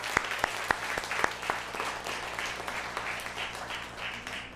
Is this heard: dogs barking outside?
no